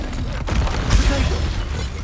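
A Confringo spell explodes in the Hogwarts Legacy game, bursting in a dense booming blast that swells near the midpoint and rumbles over a continuous low background roar.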